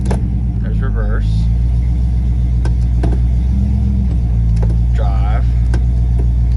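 A Ford Bronco with a suspected transmission problem idles in reverse, a loud, steady low engine rumble with a few clicks and a voice speaking over it.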